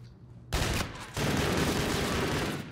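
Gunfire in Call of Duty: Infinite Warfare hardpoint mode, a sudden loud shot followed by a second sustained burst of rapid automatic fire.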